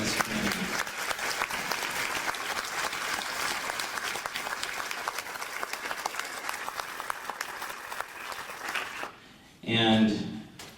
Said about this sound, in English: I think we need to give them a round of applause for all that they do in this community.